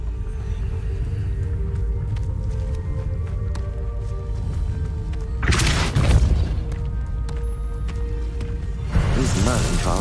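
The Depulso spell is cast in the video game Hogwarts Legacy, heard as a sudden loud whooshing burst over a low droning ambience, with a second similar blast shortly after.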